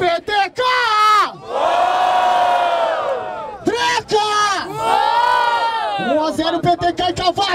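A loud crowd at a Brazilian freestyle rap battle in a bar roars and cheers in repeated swelling bursts, with shouted whoops and yells rising and falling close by.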